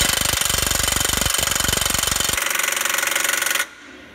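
A Snap-On impact gun hammers on a stubborn Jeep track bar bolt, a loud close rapid-fire rattle that goes on for about three seconds before cutting off, with no talking.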